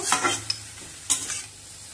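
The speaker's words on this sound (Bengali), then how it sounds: "দিয়ে পেঁয়াজটা একটু ডাঁটার সঙ্গে কষে নেব" Onion and pumpkin stalks are stir-fried in a pan for a Bengali chochhori. A spatula scrapes through the pan in two quick strokes over a soft sizzle, close up, with no voices.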